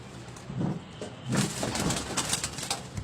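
Pigeons coo in low rolling phrases close by, with a brief rustle of wings partway through and light background noise.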